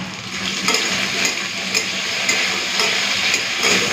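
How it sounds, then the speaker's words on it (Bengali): Potatoes and okra, seasoned with black cumin seeds and a little salt, stir-fry in a pan with a steady close sizzle and regular scraping strokes of a spatula, with no voices. "চলুন 2-4 মিনিট এইভাবে নাড়াচাড়া করে ভেজে নিই"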